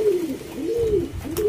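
Plosur racing pigeons in Mojokerto coo in a steady, close, rolling call. The soft warbling repeats several times across the short stretch with no speech.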